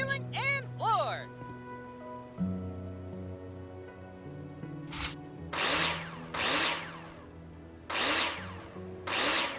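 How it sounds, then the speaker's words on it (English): Power drill whirring in short bursts while screwing metal profiles in the game Builder Simulator, several loud, distinct runs in the second half following earlier tonal game sounds. "Now place them in the hologram and screw them in with a drill."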